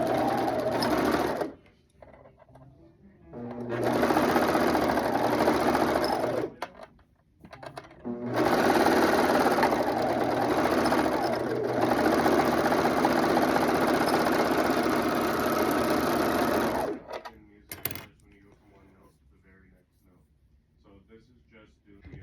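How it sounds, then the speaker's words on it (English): A serger overlocks fabric binding on the waistband of a pair of relaxation pants, running in loud, steady whirring bursts with brief pauses between passes. "And now I'm going to serge it. And I am serging this so the binding is on the top."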